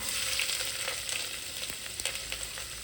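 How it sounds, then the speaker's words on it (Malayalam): Sliced onions sizzle in hot oil with cardamom, cloves and cinnamon for a pepper chicken biryani, a steady dense frying hiss with a few soft stirring clicks, close and continuous with no voices. "ഒരു 4 ഗ്രാമ്പ്, ഇച്ചിരി പട്ട ഇട്ടതിന് ശേഷം അതിൽ നമ്മൾ ഈ ഉള്ളി ഇടുകയാണ്."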